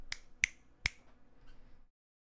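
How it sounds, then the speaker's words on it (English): Three sharp finger snaps ring out close and fairly quiet, spaced about a third of a second apart, followed by faint room murmur and then silence. "instead of clapping, they snap"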